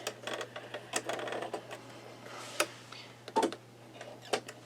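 Embroidery machine stitching a sugar skull design in pear-green thread, a quick uneven run of light ticking and clattering needle strikes, close and fairly quiet over a faint steady hum, with no talk.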